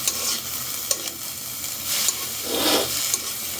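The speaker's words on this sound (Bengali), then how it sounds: "এখন এভাবে খুন্তি দিয়ে আস্তে আস্তে নাড়তে হবে" A spatula slowly stirs vegetable chicken fried rice in a pan, with soft scraping strokes over a light sizzle. The strokes are unhurried and moderately quiet, and no one speaks.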